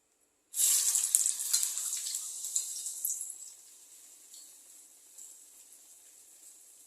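Urad dal vadas dropped into hot oil burst into a loud, close sizzle that starts abruptly, then eases into a steady, quieter frying hiss with no one talking.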